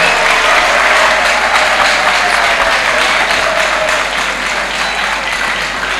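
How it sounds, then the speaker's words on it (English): Dense applause from a crowd at a mentorship and career development talk, steady and loud for the whole stretch, no voices over it. "Clap for yourself."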